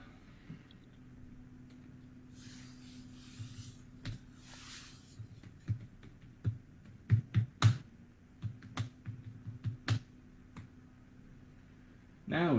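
A name typed on a computer keyboard in irregular bursts of sharp, close key clicks, some louder than others, over a quiet low hum.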